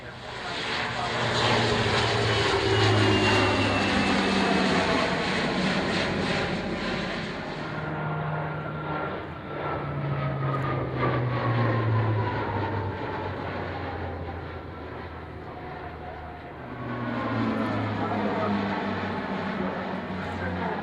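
A propeller aircraft takes off at an air display, its engine droning loud and steady with rising and falling pitch across twenty seconds. It fades a little midway, then swells again.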